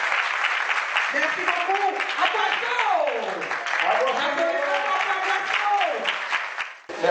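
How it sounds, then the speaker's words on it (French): An audience at a town-hall social and cultural event in Abengourou applauds loudly and steadily for several seconds, while a voice speaks over the clapping near the end. "on applaudit très fort, s'il vous plaît"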